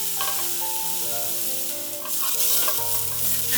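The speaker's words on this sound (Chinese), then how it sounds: "利用炒樱花虾的油炒香香菇" Shiitake mushrooms being stir-fried in oil left from frying sakura shrimp, with a steady close sizzle and repeated scraping stirs throughout, and no talking.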